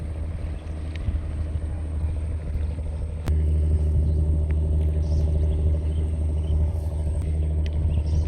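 A deep, steady trawler boat engine rumble drones throughout under cloudy skies, growing louder and heavier partway through, with a constant mechanical hum and no talking.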